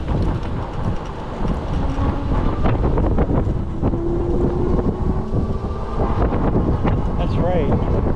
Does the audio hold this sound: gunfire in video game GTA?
no